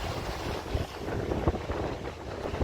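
Wind buffets a microphone aboard a sailboat on Chesapeake Bay, a rough, fluttering rumble with faint water wash beneath, moderately loud and continuous with no voices.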